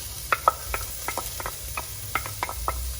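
Onions going into a moderately hot pan while cooking monggo, heard as faint, scattered sizzles, taps and stirring scrapes, quiet and close.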